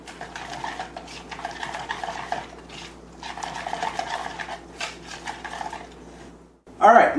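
Spoon stirring an eggplant lasagna mixture seasoned with oregano, a soft rhythmic scraping and swishing in the pan in several bursts, ending with a louder clatter.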